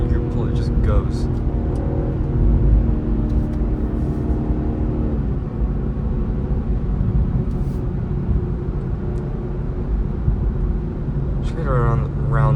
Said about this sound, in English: That's a 3rd gear pull, it just goes.